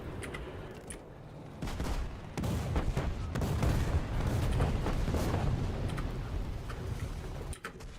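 Dense, continuous gunfire from War Thunder battle, steady bursts and booms with sharp cracks throughout, loud and sustained with no pauses.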